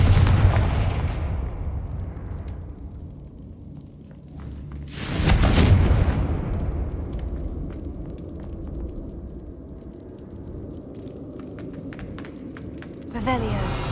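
Fiery Confringo spell blasts from the Hogwarts Legacy game, booming explosions that burst loudly near the start, again around the middle and at the end, with rumbling decay and crackle between them.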